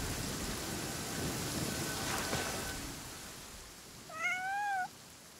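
Rain falling steadily in the Genshin Impact video game, a continuous soft hiss that eases toward the end, followed by a brief high cat meow near the close.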